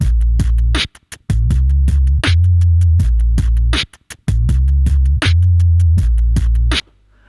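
Beatboxed vocal sounds pushed through a guitar-to-bass octave effect on a loopstation, giving deep, heavy bass pulses in a choppy rhythmic pattern with short sharp hits between, loud and close.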